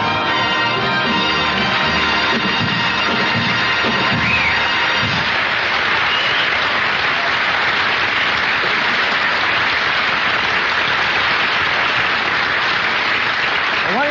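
A live studio audience at an old-time radio show applauds loudly and steadily. Music and voices play under the clapping at first, and then the applause carries on alone for a long stretch.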